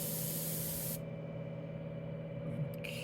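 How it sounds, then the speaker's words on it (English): A steady fine hiss of an airbrush spraying alcohol through for cleaning, over a constant low mechanical hum, cutting off after a second while the hum continues. "let the alcohol spray directly out"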